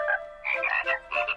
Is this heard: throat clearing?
no